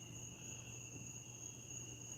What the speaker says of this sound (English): I can hear like crickets and frogs